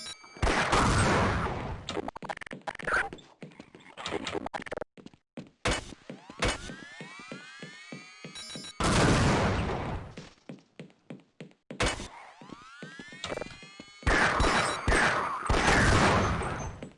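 A Gauss gun in a video game fires in loud bursts of booming shots and thunks, some ending in rising whines, with brief quiet gaps and no talking.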